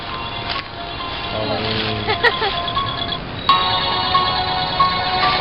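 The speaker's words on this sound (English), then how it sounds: "It's our phone. It's a ringtone." A phone ringtone chimes out in the middle of the woods during an evening bonfire barbecue, a melodic electronic tone rising over steady background noise while people talk nearby.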